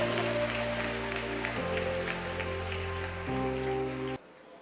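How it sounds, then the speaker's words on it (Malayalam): An audience applauds students at a school gathering, producing a dense, steady patter of many hands under sustained background music tones, then stopping suddenly near the end. "ഒരു നല്ല കയ്യടി കൊടുത്ത്, നല്ല കയ്യടി."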